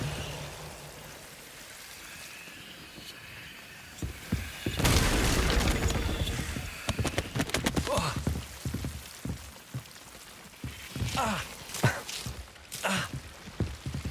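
Confringo blasting spell exploding in Hogwarts Legacy, a sudden loud burst after a quiet stretch, followed by crackling, scattered debris-like rattles and further sharp bursts over a few seconds; a character speaks briefly around it.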